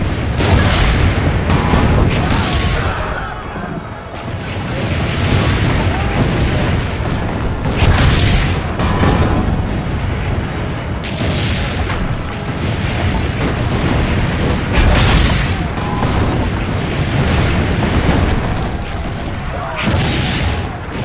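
Cannons firing in the Assassin's Creed Brotherhood video game, a dense, continuous barrage of deep booms and rumbling blasts that stays loud throughout, with battle noise layered over it.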